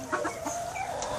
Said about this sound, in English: They're just all kinds of chickens here.